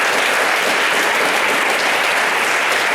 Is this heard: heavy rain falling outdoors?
no